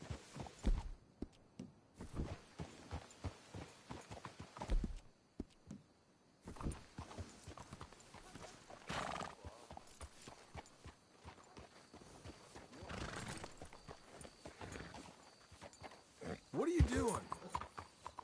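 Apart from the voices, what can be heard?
horses clip-clopping and whinnying in a video game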